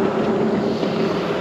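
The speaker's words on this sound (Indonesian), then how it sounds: "anginnya gede banget" Strong wind buffeting the microphone on a dusty forest trail in East Kalimantan, a loud, continuous rushing roar that fills the whole moment without pause.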